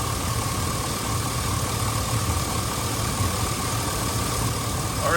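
A 2000 Chevy Silverado engine idles steadily up close during fuel pressure regulator work, a continuous even mechanical rumble with a faint whine and no speech.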